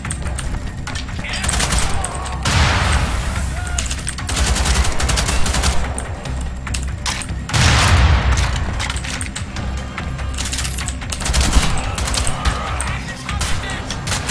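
Gunfire from many weapons in Wolfenstein: The Old Blood crackles in dense, overlapping bursts, with heavy booms surging loudly at intervals over a constant wash of shooting.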